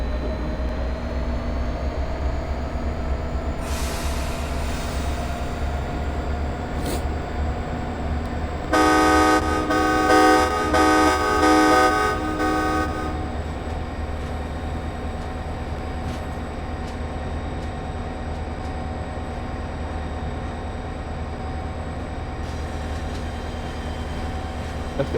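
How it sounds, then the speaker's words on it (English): A locomotive on the Northeast Corridor between Boston and Providence in Train Sim World 2 hums with a steady, low engine drone, and a loud multi-tone horn blast sounds for a few seconds midway. "For those who want to hear the engine."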